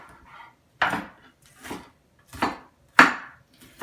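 A knife chops a red onion on a wooden board in five crisp, separate strokes, with short pauses between each cut and no one talking.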